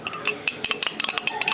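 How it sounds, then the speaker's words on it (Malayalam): A spoon stirs and scrapes food in a cooking pot, with quick metallic clinks and taps against the rim in an uneven rhythm, close and fairly clear. "ഇനി ഇളക്കൽ പരിപാടി തുടങ്ങാനായിട്ടുണ്ട്. ഇളക്കിക്കെടുക്കാം."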